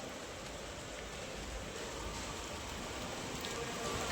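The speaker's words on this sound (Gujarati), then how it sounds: "અમારે તો અષાઢી બીજનો મસ્ત મજાનો વરસાદ આવી ગયો છે." Monsoon rain falling outdoors on Ashadhi Bij, a steady, even wash of drops that stays faint and unbroken throughout, with no voices.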